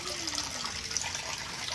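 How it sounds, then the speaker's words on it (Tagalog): A 1 horsepower water pump draws deep well water into a concrete tank, producing a steady rushing, splashing flow with a faint whine, continuous and close. "Water pump, yan."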